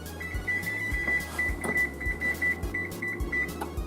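Oven control panel buttons pressed to select bake, giving a series of short electronic beeps with soft tapping clicks against a low appliance hum.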